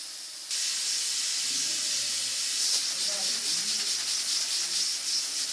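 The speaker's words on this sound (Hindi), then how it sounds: "यहाँ पर हमारे प्रेशर कुकर की जो है सीटी को जो देखें विसल बजना शुरू हो गया है।" A loud, continuous hiss of steam from a pressure cooker whistle while cooking mixed dal starts abruptly and keeps blowing steadily, with faint kitchen sounds beneath.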